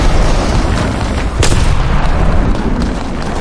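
Grenade blast during a competitive Apex Legends match: one loud, sharp boom at once, with dense game noise and firing around it.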